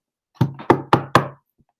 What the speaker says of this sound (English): knocked on the apartment door and waited.